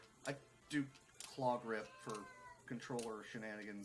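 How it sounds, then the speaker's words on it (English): A pet cat meows several times, drawn-out and plaintive, interleaved with someone speaking nearby at low volume. "that's my cat. He's annoyed that he's not in my lap right now."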